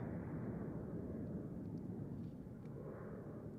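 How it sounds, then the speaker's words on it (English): An Air Canada Boeing 787 Dreamliner approaches Amsterdam Schiphol Airport as a distant, faint, steady low jet roar that swells slightly and stays even throughout, with no voices. "that's the Dreamliner. 787 Dreamliner Air Canada coming our way"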